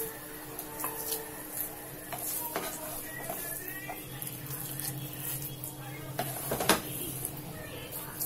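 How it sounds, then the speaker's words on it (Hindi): Cooked pumpkin halwa is scraped and spooned out of a pan into a bowl, with scattered metallic scrapes, light clinks and soft stirring sounds close by. "हमारा कद्दू का हलवा बनकर तैयार हो गया है। गैस का फ्लेम बंद कर देंगे। अभी से एक बाउल में निकाल लेते हैं।"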